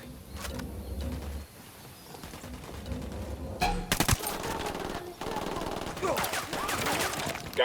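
Bursts of automatic gunfire and sharp single shots from a firefight in Ghost Recon Wildlands come in uneven clusters at close range. Clanks and brief pauses fall between the bursts.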